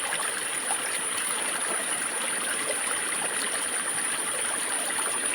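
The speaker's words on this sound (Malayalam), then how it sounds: "ഇതിൻ്റെ ഉറവ വെള്ളം അടിയിൽ നിന്ന് അതിശക്തമായി വെള്ളം തള്ളി തള്ളി വരുന്നത് കണ്ടോ നിങ്ങൾ" Spring water surges strongly up from the ground into a pool, producing a constant close rushing and gurgling with fine splashy texture and no speech over it.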